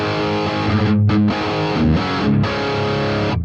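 Distorted electric guitar lead played through the dirty amp model of a Boss GT-1000 Core, loud and sustained, with a brief dip in the phrase before the notes ring on.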